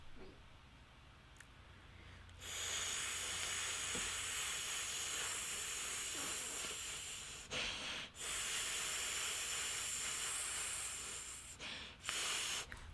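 A person exhales a long, steady hissing breath, mimicking white noise, broken by a few short pauses and breaths.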